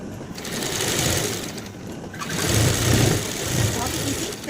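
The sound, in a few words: sewing machine stitching pant fabric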